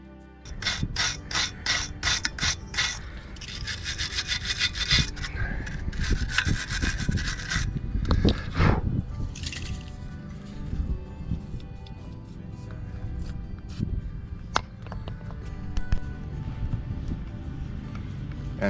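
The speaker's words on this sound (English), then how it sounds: "the old clamp is a bit rusty, so trying to just clean that up and see if I can get a bolt off" A rusty exhaust clamp on a Mercedes Sprinter is scraped and rubbed clean by hand, with rapid rasping strokes in a steady rhythm, then slower scrubbing and occasional metallic clicks, close to the microphone.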